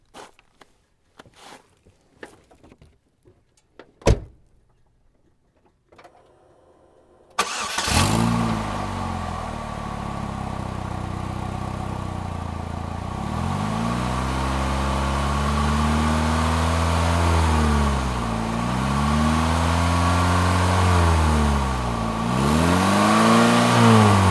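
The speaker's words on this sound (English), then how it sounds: "this is going to be the sound of me getting in the car, starting it up, and then revving the engine" A few sharp clicks and a door thunk, then an engine cranks and catches, idles, and is revved repeatedly in rising and falling surges, close by.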